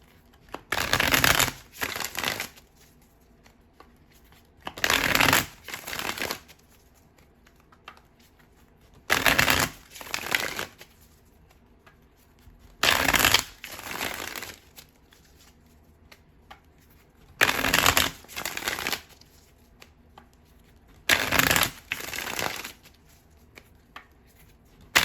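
Tarot deck shuffled in six separate bursts of riffling, each lasting a second or two, with quiet pauses between; close and crisp, with no talking.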